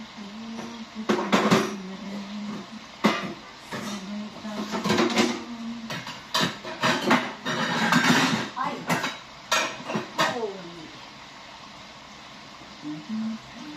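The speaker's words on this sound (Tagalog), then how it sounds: "ako'y naghuhugas ng pinggan. Ang dami po natin hugasan na pinggan." Dishes being washed by hand in a home kitchen: plates and cutlery clink and clatter repeatedly and irregularly, close up, with someone talking in Tagalog over the clatter.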